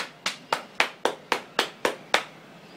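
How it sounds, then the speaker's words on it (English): A small audience claps in a slow, even rhythm at a public awareness session about putting diesel into a petrol car, roughly eight crisp separate claps heard alone and close. "A big clap!"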